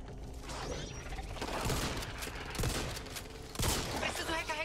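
Rapid assault rifle gunfire in the zombie shooter Back 4 Blood, sharp repeated shots in uneven bursts mixed with mechanical clatter, moderately loud amid busy game sound.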